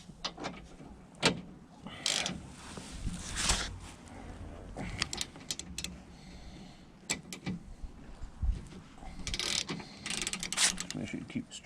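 Ratcheting clicks from a tow strap being cinched tight on a Ford Fiesta ST180, coming in several short bursts of mechanical rattling and clacking between handling noises, with faint talk in the background.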